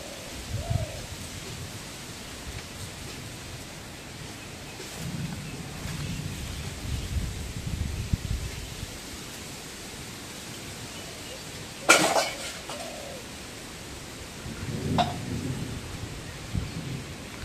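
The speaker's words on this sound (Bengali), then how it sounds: "বৃষ্টির আভাস, বাতাস, আর বৃষ্টি পড়তেছে, হালকা বৃষ্টি পড়তেছে।" Light rain falls with gusts of wind outdoors on a dark, overcast day in a rural farm setting, a soft steady wash with occasional rumbles and a sharp crack partway through, no voices.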